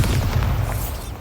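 A Bombarda blast spell from Hogwarts Legacy erupts as a single loud, deep boom that rumbles heavily and fades over about a second.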